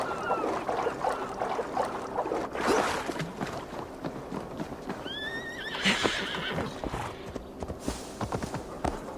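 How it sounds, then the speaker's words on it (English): A horse whinnies loudly twice amid clip-clopping hooves and ambient rustling, close and vivid, in the video game Assassin's Creed: Valhalla. "Your horse is a little unsettled, but safe."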